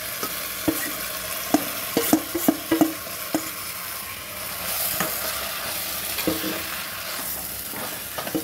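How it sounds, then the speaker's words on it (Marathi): Vegetables for veg biryani hit a hot oiled frying pan and are stirred, with steady sizzling under a run of spoon scrapes and clinks, then quieter frying with a few later stirs. "पूर्ण भाज्या मी यामध्ये घालून देणार आहे."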